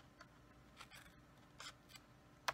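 Scissors trim the edges of paper for a handmade birthday card, making several quiet, separate snips spaced apart. The last cut is sharpest and closest, and nobody speaks.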